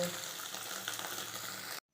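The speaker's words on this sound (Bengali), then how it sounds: "হালকা আঁচে পনিরটাকে ভেজে নিব" Paneer pieces fry in oil over low heat, giving a steady close sizzle with faint stirring, then cutting off abruptly near the end.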